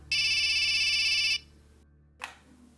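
A telephone rings once in a bright electronic trill lasting over a second, followed by quiet room tone and a short click.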